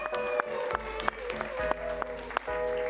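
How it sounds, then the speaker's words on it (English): Applause from a live late-night comedy show audience in a theatre, a steady clapping wash with sharp peaks over sustained music and tones, loud and continuous throughout. "Let's give a round of applause to Steve Nichols."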